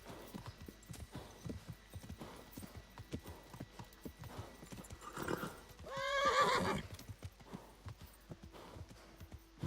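In the medieval game Kingdom Come: Deliverance, a horse's hooves clip-clop in a steady walking rhythm, close and clear, broken midway by a loud, drawn-out neigh before the hoofbeats resume.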